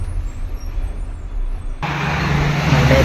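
A loaded truck climbs a flyover onto a ring road, its engine a low steady drone under road and wind noise that suddenly grows brighter and louder partway through, with tyre roar building toward the end.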